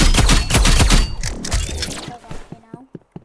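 The exo gun in the video game Rivals fires a rapid, loud burst of close shots for about a second. A few scattered impacts follow, then a person speaks over the fading tail.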